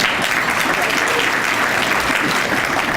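Audience applause at a court historical society's annual dinner runs as a dense, even wash of clapping for the full stretch, close and fairly loud.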